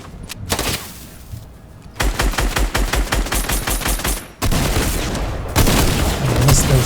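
Video game gunfire in Fortnite Season 5, rapid bursts of automatic shots and single loud blasts in quick succession, dense and close with explosive booms.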